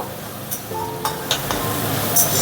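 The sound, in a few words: frying and stirring spice paste for katla fish curry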